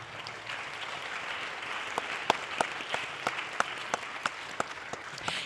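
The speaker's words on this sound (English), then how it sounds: "Let's give them all a round of applause." Faint, distant audience applause for a scholarship committee at the Miss Provo 2020 pageant, a soft steady wash of many hands with a few sharper individual claps standing out, with no voices over it.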